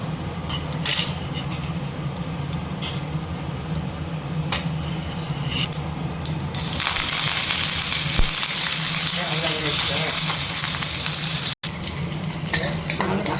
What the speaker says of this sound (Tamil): எண்ணெய் காஞ்சிச்சு கொஞ்சமாக கடுகு சேர்த்துக்கலாம்